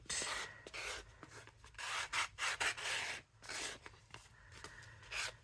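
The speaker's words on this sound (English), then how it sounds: "this is a sander, and I can just kind of give it a quick little sand to smooth it out" A hand sander rubs over a mount board ornament in short back-and-forth strokes, soft gritty scratching bursts separated by brief gaps, close but quiet, with no talk.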